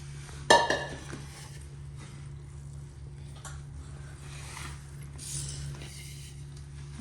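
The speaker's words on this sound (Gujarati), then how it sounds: "હવે ઘી ગરમ કરીને નાખી દઈશું" Hot ghee goes into a flour mixture for Gujarati methipak, bringing a sharp clink of a metal vessel followed by quiet scraping and stirring against a pot over a low steady hum.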